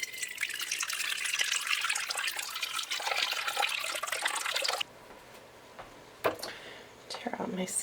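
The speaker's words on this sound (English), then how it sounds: "Need some warm water." Warm water poured into a kitchen bowl for instant yeast while making stollen: a steady, fairly loud hiss of running water for about five seconds, then quieter clinks and small handling sounds.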